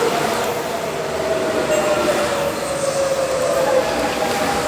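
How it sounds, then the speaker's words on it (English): Passenger train running from Val d'Europe to Disneyland Paris, heard from inside the carriage as a steady, loud rumble with a faint squeal from the rails throughout. "hop on the train, and head on over to Disneyland Paris"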